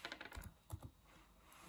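Keys clatter on a laptop keyboard in a short, quiet burst of clicks, a few separated taps following after a brief pause, with no voices.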